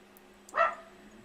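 A dog gives a single short bark, fairly close and clear over a quiet room background.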